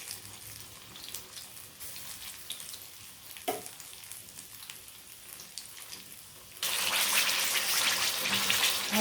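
Soft crackling and popping of banana fritters frying in hot oil, then a sudden loud, steady hiss of spattering oil takes over near the end.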